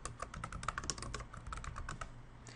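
Rapid keystrokes on a computer keyboard as a menu item name is typed into an online course platform, a steady run of close, light clicks with no talking.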